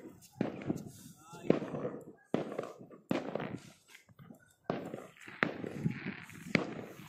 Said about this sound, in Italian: Là stiamo accendendo i fuochi.